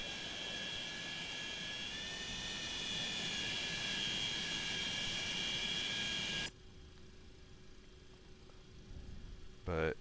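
Simulated MD-82 jet engines in the X-Plane 12 flight simulator, a steady loud broadband roar with a high whining tone that cuts off abruptly partway, leaving a quieter cabin-like hum and a short thump at the end.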